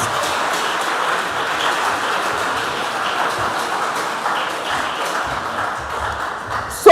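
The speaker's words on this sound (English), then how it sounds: "A round of applause to all our contestants" An audience claps for school quiz contestants at a junior high school quarter-final, a steady, even wash of applause from many hands that carries on for several seconds before ending abruptly.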